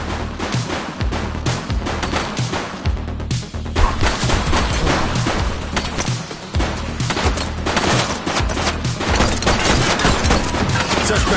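Loud, relentless gunfire in a shootout from The Precinct, rapid overlapping shots and automatic bursts filling the whole stretch with no pause.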